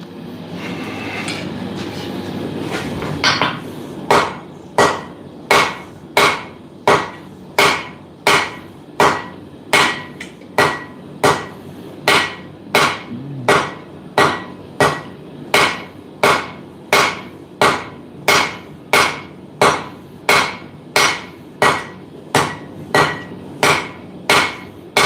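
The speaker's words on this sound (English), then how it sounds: "Getting better with this hammer." A blacksmith's hammer strikes metal during a smithing session, sharp ringing blows landing in a steady rhythm about once a second, loud and close, continuing for over twenty seconds after a brief stretch of louder activity at the start.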